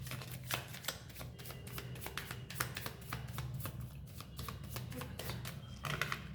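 Tarot cards being shuffled by hand, a rapid run of soft close flicks and riffles over a low steady background hum; no talking.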